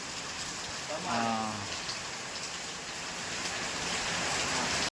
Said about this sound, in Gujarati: એવો પડ્યો ભાઈ વરસાદ અનલિમિટેડ પડી ગયો